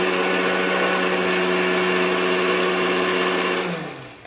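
Mixer grinder whirring as it grinds red chili and salt into powder, a loud steady motor drone that winds down and stops near the end.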